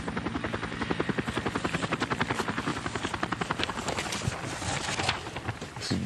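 A helicopter's rotor thuds steadily and fast, a loud, close, rhythmic chopping with a broad engine roar beneath it, running alone throughout without any talk.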